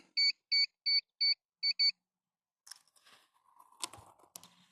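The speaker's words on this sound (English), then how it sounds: "Aircraft beeped and pair." A DJI Air 3S drone pairing with its controller sounds six short, sharp electronic beeps in a quick, even series, followed by quiet handling clicks and rustling nearby.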